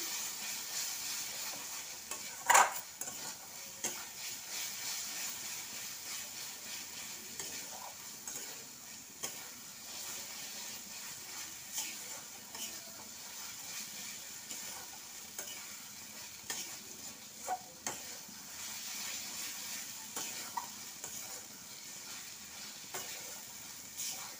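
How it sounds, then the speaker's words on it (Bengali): Spices and cumin powder frying in oil in a pan for Hyderabad-style egg curry, a soft continuous sizzle broken by occasional scrapes and taps of a spoon stirring, close and moderately quiet. "জিরে গুঁড়ো দিয়ে খুব ভালোভাবে কষে নিচ্ছি।"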